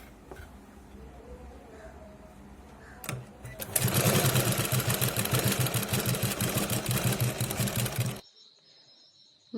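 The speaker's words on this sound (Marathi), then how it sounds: "अशा प्रकारे आपण छोट्या छोट्या चुन्या देऊन साडीतील पूर्ण भाग शिवून घेत आहोत." Saree fabric is stitched into a ghaghra in small pleats on a sewing machine. After a quiet start comes about four seconds of fast, loud, rhythmic stitching chatter close by, which then stops abruptly.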